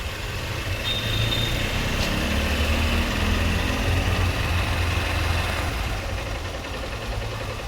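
A motorbike engine idles steadily close by before setting off from a Mumbai outing, a continuous low rumble with no talk over it.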